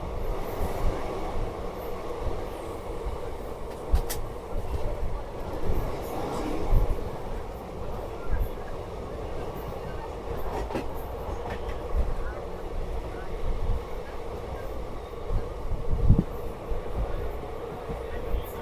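Steady rumble and rattle of a moving passenger train heard from inside a carriage on the Howrah–Rampurhat line in India, with occasional clacks and brief wheel squeals; voices murmur faintly in the background.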